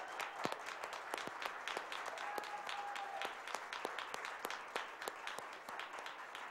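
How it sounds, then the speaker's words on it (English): A standing audience at a Black History Month oratorical celebration claps for Dr. Juanita Pitts, a moderately quiet, sustained patter of hands with individual sharp claps standing out throughout. "give one more round of applause to the matriarch in our community, Dr. Juanita Pitts"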